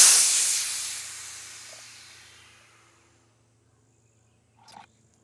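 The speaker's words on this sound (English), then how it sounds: "That noise you're hearing is the air rushing past the valve as it's entering the gun," Air hissing past the valve while a Hatsan Flash QE .25 air rifle is filled, a loud close rush that fades steadily to silence over a few seconds, then a brief faint metallic click.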